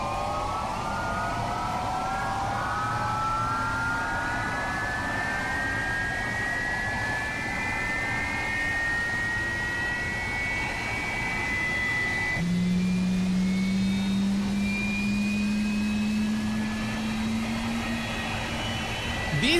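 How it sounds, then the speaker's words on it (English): FlightFactor 767-400ER jet engine spooling up in the X-Plane 12 flight simulator, a steady loud whine rising in pitch with a low tone that steps up partway through, alone and without voices. "Here we see the engine is now spooling."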